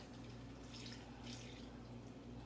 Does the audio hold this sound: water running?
yes